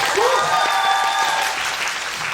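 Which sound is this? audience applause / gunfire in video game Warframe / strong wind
audience applause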